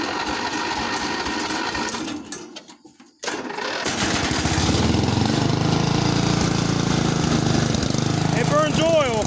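Ranch King riding mower engine that has sat unused for a while and burns a little oil, running loud and steady with the throttle up after a brief dip; a voice talks over the drone.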